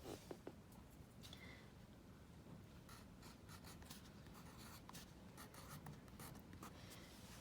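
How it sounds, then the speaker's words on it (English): Pencil scratching on paper while a lowercase word is handwritten, faint close strokes and short scrapes in irregular bursts against quiet room noise. "I need to write lowercase"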